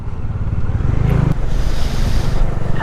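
A steady rushing roar of strong river current on the Dupinga River, continuous and fairly close, with a brief sharp knock partway through.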